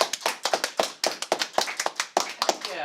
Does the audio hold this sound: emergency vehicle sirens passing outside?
no